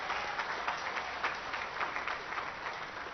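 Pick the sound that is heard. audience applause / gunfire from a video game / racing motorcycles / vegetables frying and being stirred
audience applause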